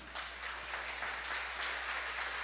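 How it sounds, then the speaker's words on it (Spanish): A church congregation claps as an offering of applause to the Lord during a Spanish-language sermon. The dense, even clapping holds steady throughout, fairly faint and slightly distant. "Démosle un aplauso al Señor"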